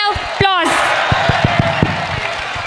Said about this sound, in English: Please give them big round of applause.